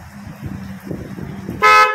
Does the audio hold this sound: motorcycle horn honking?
yes